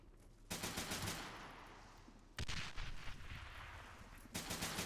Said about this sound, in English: Oh, that hand grenade